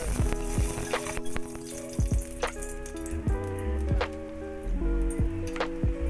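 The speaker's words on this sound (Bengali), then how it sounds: "সেই রসুন ভাজা তেলে আধখানা শুকনো লঙ্কা ফোড়ন দিলাম।" Half a dried red chilli sizzles in white oil already used for frying chopped garlic in a wok, a quiet crackle broken by sharp pops and ticks of metal.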